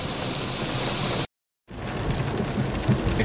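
Steady, heavy rain pours onto flooded, waterlogged streets in Malvinas Argentinas, a dense continuous hiss that cuts out briefly midway and then resumes just as loud.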